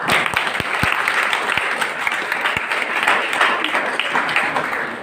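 Audience at a government senior secondary school function breaks into sustained applause, dense steady clapping from a crowd with a few sharper claps standing out near the front.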